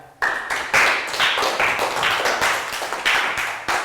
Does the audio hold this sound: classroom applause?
yes